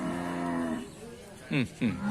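Cattle at a northern Thailand livestock market moo close by: one long, low call, then two shorter, rising calls in quick succession over a faint background.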